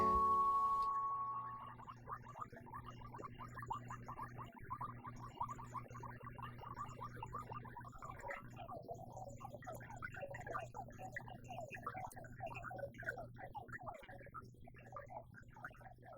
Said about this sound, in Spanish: sampleó sus grabaciones de pájaros de Venezuela en su disco Utopia